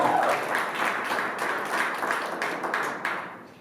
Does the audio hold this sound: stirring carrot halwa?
no